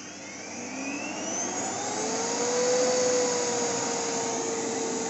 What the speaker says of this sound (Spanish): Y lo he conectado a la aspiradora, mira.